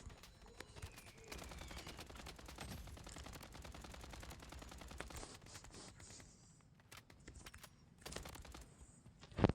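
Rapid gunfire from the online shooter BloodStrike crackles in bursts of sharp shots, with bright clicks and short pauses between volleys, fairly loud and dense throughout.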